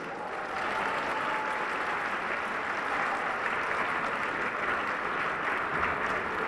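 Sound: audience applause for performers

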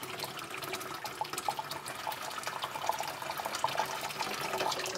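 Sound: warm water running into a sink

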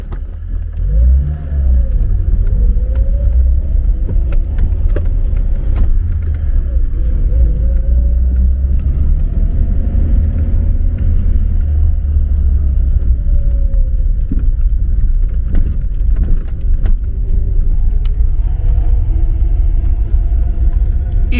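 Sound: car driving on a road

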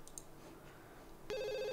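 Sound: telephone ringing in video game The Sims 2

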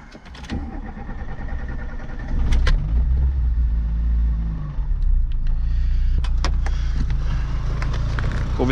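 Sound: VW Polo Mk2 car engine starting

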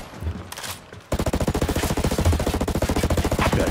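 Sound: gunfire in the video game Ghost Recon Breakpoint

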